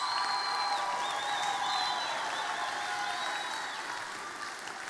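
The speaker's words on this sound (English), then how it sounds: "What about a round of applause?" Audience applause at the Young Farmer of the Year grand final for the committee, a full sustained roll of clapping with a few whistles and cheers, easing off slightly toward the end.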